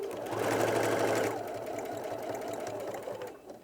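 A sewing machine stitches the seam of a kneeling cushion, running in a loud, fast, rhythmic whir for about a second before easing into a quieter steady stitching.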